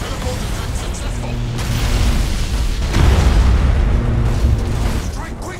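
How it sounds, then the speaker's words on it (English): Thunderhawk bombardment in the space battle game Battlefleet Gothic Armada, with Space Wolves facing Necrons: a dense, continuous rumble of booming explosions that swells around the midpoint and keeps rolling loud to the end. "Initiate Thunderhawk bombardment."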